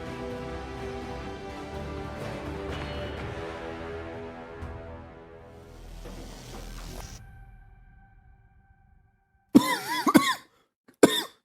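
A person coughs twice in short bursts, close and loud, after a long stretch of fading steady tone and near silence.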